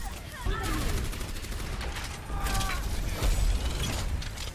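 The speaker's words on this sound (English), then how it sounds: "Now I notice our Orisa's getting shot there and didn't use Fortify" Gunfire rattles against Orisa in a competitive Overwatch match, a dense, steady clatter of mechanical shots and impacts with a voice talking over it throughout.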